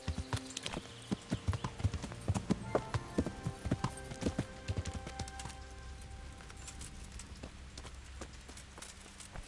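Video-game horse hooves clip-clopping at a brisk, even pace while ridden, loud and close at first, then fading under a low background hum.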